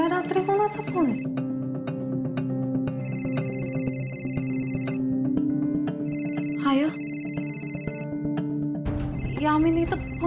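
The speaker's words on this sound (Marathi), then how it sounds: "कुठून फोन वाजतोय?" A telephone rings at night inside a home in a Marathi TV serial, its repeating electronic tune sounding at a moderate level beneath people talking throughout.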